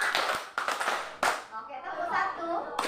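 A classroom of children claps hands together in short, sharp group bursts, roughly four sets of claps spaced across the moment. An adult and children speak between the claps.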